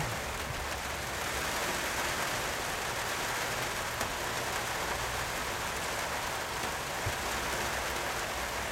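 Steady heavy rain pours onto a camera at an outdoor golf croquet ground, a dense, even hiss that stays loud and close throughout with no voices.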